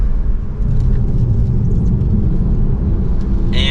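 A 2023 Lexus RC350 F Sport with a 3.5-liter V6 accelerates in Sport S Plus mode, producing a loud, steady, low engine drone and road rumble heard from inside the cabin.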